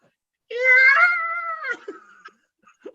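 A person's voice imitates a cat yowling: one long, strained, rising-and-falling screech, close to the mic, ending in a few short breathy sounds.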